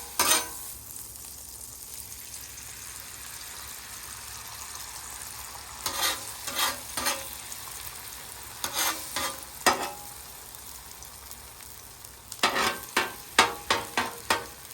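Butter sizzling in leftover brisket tallow in a pan, a steady low hiss broken by clusters of sharp scraping or stirring strokes that grow quicker and louder toward the end.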